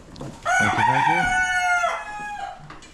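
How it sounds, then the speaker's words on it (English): A rooster crows once, close and loud, a long rising-and-held call lasting over a second, followed by a quieter tail and faint farmyard sounds. "We have a rooster who spent the night up there."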